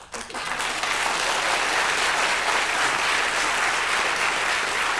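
An audience bursts into sustained applause in a studio comedy setting, loud, dense clapping that rises within the first second and holds steady throughout.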